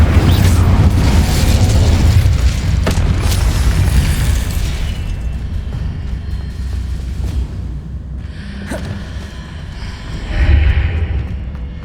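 Fiery spell blasts in Hogwarts Legacy, a loud rumbling burst of flame and explosion at the start that slowly dies away, then a smaller crackling flare near the end.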